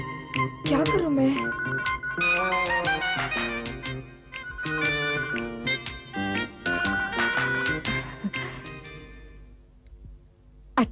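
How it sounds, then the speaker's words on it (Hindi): A telephone rings repeatedly in bright, insistent bursts, loud and close, with only brief gaps before stopping near the end. "क्या बात है, कोई फोन क्यों नहीं उठा रहा है?"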